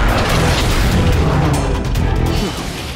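Cartoon micro missile launching and exploding in a battle scene: a loud, sustained booming burst with crashing debris-like noise that tapers off at the end.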